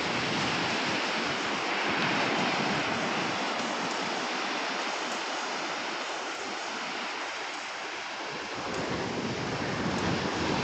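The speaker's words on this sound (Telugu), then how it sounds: "అలలు ఎలా వస్తున్నాయి చూడండి" Sea waves break and roar continuously on a beach near Tuni, a broad steady wash of surf with wind buffeting the microphone.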